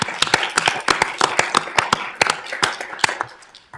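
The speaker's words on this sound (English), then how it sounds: "So I just entertain the committee do a round of applause for all his hard work." A finance committee meeting breaks into a round of applause, with sharp, irregular claps sounding through the room for almost four seconds.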